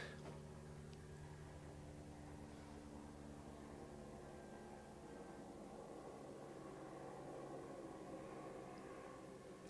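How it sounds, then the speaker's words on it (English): Helicopter passing overhead outside, a steady low engine and rotor drone with a broad rumbling wash that holds at a constant level throughout, fairly distant and without speech. "Helicopter coming overhead."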